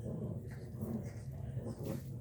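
Small Shih Tzu puppies whimper and breathe softly up close, faint low whines and snuffles running steadily through the short stretch with no talk over them.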